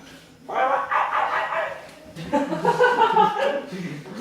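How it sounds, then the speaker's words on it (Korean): A dog barks in two bursts of loud, close, repeated barking, interrupting a math lesson. "짖지 마시고요"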